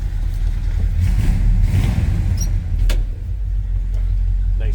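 A 1984 Chevrolet Scottsdale C10 pickup with a V8 engine, heard from inside the cab, runs with a loud, steady low rumble that swells as the throttle is blipped, with a few small clicks on top.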